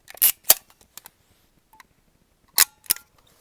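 A Braun Paxette Model 35 camera with a Prontor 125 shutter and Cassar f2.8 lens clicks sharply up close, two pairs of crisp mechanical snaps separated by quiet, with faint small clicks of handling between.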